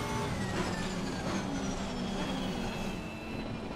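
Race car engine droning steadily under light throttle in Assetto Corsa Competizione during a wet-weather race, a loud, continuous tonal whine with a slowly shifting pitch and no talk.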